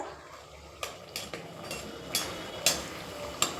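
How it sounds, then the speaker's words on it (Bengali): Chhana malpua fry in hot oil while a utensil turns them in the pan, giving a soft sizzling bed broken by several sharp metallic scrapes and clinks at irregular intervals, quiet and close with no voices. "এবারে আমি মালপোয়াটা দেখো একটু নাড়াচাড়া করছি"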